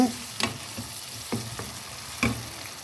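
Sweet and sour escabeche is stirred in a pan over a soft background sizzle, with a handful of distinct utensil scrapes and knocks spaced irregularly.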